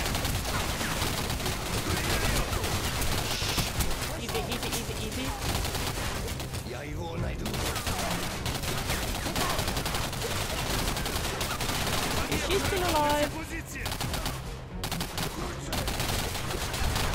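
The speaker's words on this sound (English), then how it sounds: "Oh, they have those cannons." Cannons fire during a Singularity video game session: a dense barrage of loud, rapid blasts and explosions that runs almost without a break, with brief dips in between.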